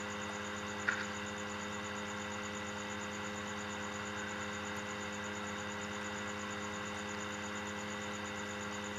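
A truck engine idling in Farming Simulator 2013, a steady, even mechanical drone with a constant low hum and one brief click near the start.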